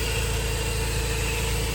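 A Mazda RX-8 rotary engine idles steadily with a dense, even drone and a fast low pulse, loud and close, right after an alternator and belt replacement; no voices.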